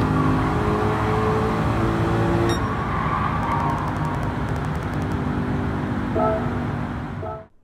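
A race car at full throttle on Urban Tracks 2 in Gran Turismo 7 during an International B licence test, its engine droning loud and steady with gear shifts and rising pitch before cutting off at the end.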